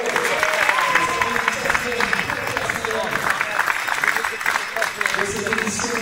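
Audience applause at a wheelchair football tournament, the Geneva Cup in Le Grand Saconnex, Geneva, rendered as a steady, dense wash of clapping from a crowd that holds for several seconds with talk mixed in.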